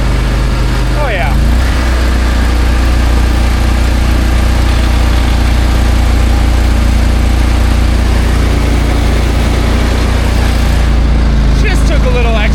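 Loud, steady engine drone of an Argo Scout amphibious vehicle running close by, with continuous low rumble and vibration throughout and a voice speaking briefly over it.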